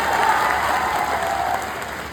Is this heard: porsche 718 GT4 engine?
no